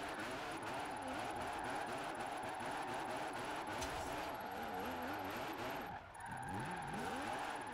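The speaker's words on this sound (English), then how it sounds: "What a peculiar engine sound." A drift car engine in Forza Horizon 4 drones steadily with rising and falling pitch as gears change, loud and close, with a brief dip near the end.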